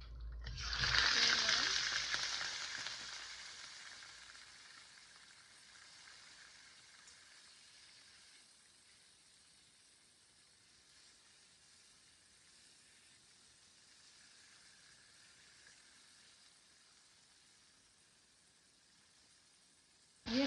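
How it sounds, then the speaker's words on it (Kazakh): Meat goes into hot oil in a pot with a loud, sudden sizzling burst that eases within a few seconds into a quieter, continuous frying hiss lasting the rest of the stretch. "Қызып тұрған майымызға бірінші етімізді салып,"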